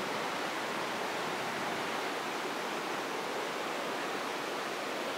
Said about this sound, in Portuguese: Ali é a cachoeira do Escorrega.